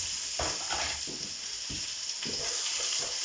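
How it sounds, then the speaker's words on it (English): Vegetables for a mock moussaka sizzle in a frying pan with a steady, close hiss, broken by soft scraping stirs every half second or so. "So that's going in for a quick sizzle."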